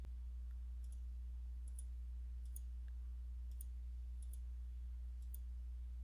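TI-83 calculator keypad being typed on, a series of small, faint plastic clicks at irregular intervals over a steady low hum.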